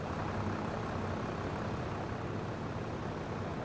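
Tractor engine in a farming video game, working under a heavy front load as a dense, steady, loud drone that runs unbroken throughout, with no speech.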